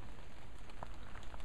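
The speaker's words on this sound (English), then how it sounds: "since it's raining" Rain falls outdoors in the woods beside a stick fort, a faint, even patter with a few slightly louder drops near the end.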